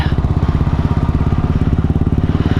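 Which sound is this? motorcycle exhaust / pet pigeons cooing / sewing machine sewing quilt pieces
motorcycle exhaust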